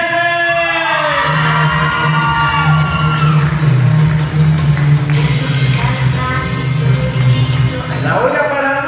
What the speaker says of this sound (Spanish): Otro fuerte aplauso, otra fuerte bulla